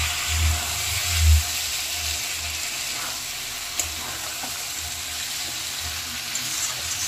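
Vegetables fry with spice masala and black cumin for a bata fish curry, making a steady hiss of sizzling oil with low thumps early on and an occasional clink of utensils, close and moderately loud.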